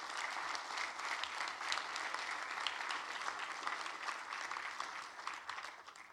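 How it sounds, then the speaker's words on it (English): Conference crowd at a DevOps community event breaks into broad, even applause, a fairly faint room-filling wash of many hands that holds steady before tapering slightly. "let's give us a big round of applause for everybody in the room"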